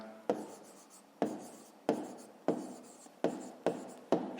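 A pen scratches across paper as a math answer is written out by hand, a series of about seven short strokes, each starting sharply and trailing off, quiet and close.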